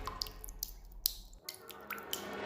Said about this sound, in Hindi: तभी उसे सिंक के पास से पानी टपकने की आवाज आती है।